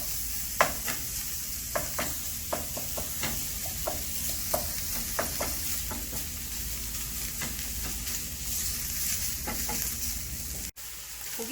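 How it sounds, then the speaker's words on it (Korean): Ground meat stir-fries in a pan with a steady close sizzle, while a utensil breaks up the clumps in a string of light scraping taps and knocks. No one talks. "고기가 뭉치지 않게 잘 쳐주시면서 볶아주세요."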